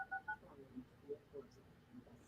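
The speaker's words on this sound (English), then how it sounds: "Let me try to dial your number really quick and make sure this thing works." A phone number is dialed, producing a few short DTMF keypad beeps in quick succession, faint against a quiet room background.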